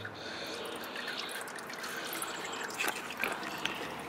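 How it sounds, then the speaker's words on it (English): Oil drains from the dry sump oil filter of a Corvette C7 Stingray Z51, a faint continuous trickle with soft drips, close and quiet. "Now it's time to let the filter drain"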